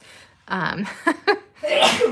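A single sharp sneeze from a woman with allergies, preceded by a quick intake of breath and gasp, close to the microphone in a quiet indoor room.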